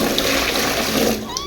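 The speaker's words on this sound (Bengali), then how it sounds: "এই যে ওদের টাপটাতে এখন জলটা ভরে দিচ্ছি" Water pours steadily into a children's bathtub at home, a loud continuous gushing rush that stays even throughout before easing slightly at the end.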